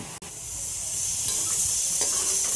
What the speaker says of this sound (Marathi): अशा पद्धतीचा कांदा तळून घेतलाय मी